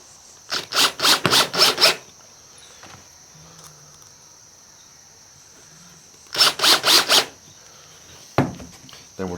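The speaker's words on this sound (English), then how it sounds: "Throw a couple wood screws in just to hold things in place." A cordless drill drives wood screws into boards for a simple blade grinding jig, with two close bursts of rapid whirring pulses separated by a quiet pause, followed by a short final burst.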